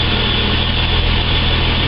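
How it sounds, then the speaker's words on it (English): Car engine running steadily with a constant droning hum and buzzing rumble, close and loud, with no clear rise in pitch over the short span. "Now if I rev the engine up slightly"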